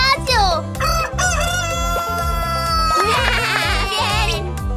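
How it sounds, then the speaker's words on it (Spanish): A rooster crow comes from a toy that pops out of a surprise egg, sounding loud and close over bouncy, rhythmic background music. "¡Es un gallo!"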